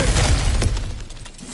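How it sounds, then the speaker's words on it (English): Cracked ground in God of War Ragnarok shatters in one loud, close smash, with a burst of breaking debris that rattles and fades over the following second. "Ah, back to smashing some things for fun and profit."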